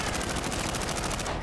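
An automated turret in Call of Duty: Warzone 2 fires a dense, continuous burst of rapid gunshots, loud and close throughout.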